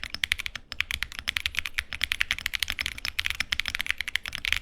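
Typing on a mechanical keyboard fitted with salmon tactile switches, a dense, steady run of close, crisp keystrokes with no clicky edge, heard alone without voices.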